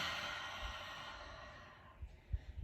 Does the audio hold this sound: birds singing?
no